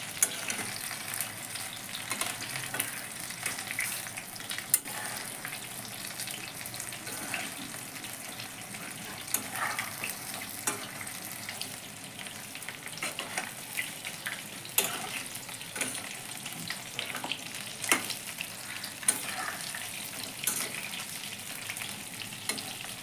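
Soya chilli pieces sizzle and fry in a pan with a steady crackling hiss, punctuated by occasional clicks and stirring sounds, close and alone without any talking.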